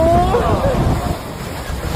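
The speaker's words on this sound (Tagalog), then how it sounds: "Ang lakas ng hangin!" Strong typhoon wind buffets the microphone in a loud, rushing roar, with a voice briefly heard under the gusts.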